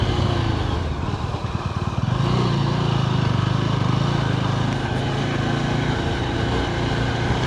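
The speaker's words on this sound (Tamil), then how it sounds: "வண்டி வருது கைஸ், எல்லாம் பிரச்சனை இல்லை." A motor vehicle, apparently a motorcycle, runs steadily on a forest road near Mampazhathara on the route to Vagamon. Its engine drones loud and close, with no talk over it.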